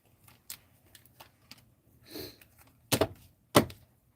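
Quiet handling of tarot cards: soft scattered ticks, a brief riffle, then two sharp slaps as cards are set down.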